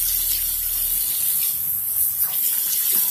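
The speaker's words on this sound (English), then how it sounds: "I'm going to try to rinse some of the soap off." Tap water running steadily into a bathroom sink while soap is splashed and rinsed off a face, a constant close hiss of flowing water with faint splashes and no talking.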